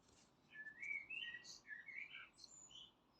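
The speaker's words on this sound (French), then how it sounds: "Des petits oiseaux." Small birds chirp outdoors in a calm setting, a string of short bright tweets and whistled calls, fairly faint and somewhat distant over a quiet background, with no voices.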